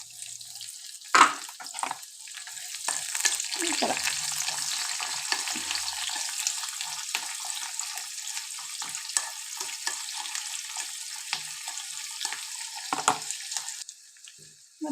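Onions frying in tempering oil with urad dal, chana dal, mustard seeds and curry leaves for beetroot palya: a steady close sizzle with intermittent spoon stirring and scraping, and a brief spoken phrase early on.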